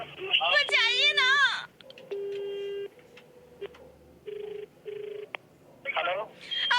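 A phone call rings through with a long steady line tone, then a series of short, evenly spaced beeps. Voices talk over the line at the start and again at the end.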